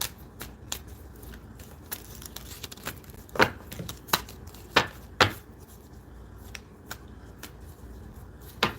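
A deck of cards being shuffled repeatedly, with crisp riffling bursts and sharp snaps at irregular intervals over a low room hum, close and fairly loud.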